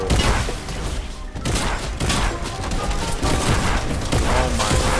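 Rapid Fortnite gunfire from a video game, loud and continuous bursts of shots throughout, with excited players shouting over the shooting.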